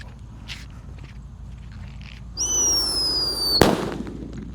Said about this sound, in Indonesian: selanjutnya di sini ada Whistling Thunder. Kita lihat reaksinya.